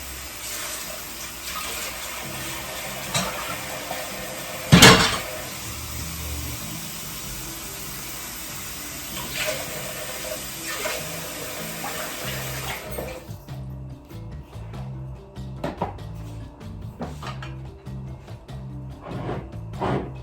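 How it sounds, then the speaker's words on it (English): Water pours into a cooking pot while making homemade porridge, a steady close stream broken by a brief sharp splash, then quieter clinks and handling sounds after the pour stops. "So I will start off with 2 cups of water inside."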